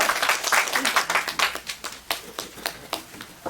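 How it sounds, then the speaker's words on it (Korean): A congregation claps together at an outdoor worship service, a run of fairly quiet, rhythmic hand claps that taper into scattered, evenly spaced claps. "우리 다 같이 큰 박수를 하나님께 올려드리겠습니다."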